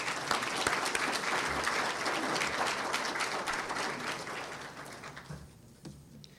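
An audience at a regional school launch reception applauds steadily for several seconds, a dense wash of clapping that gradually thins and tapers off near the end.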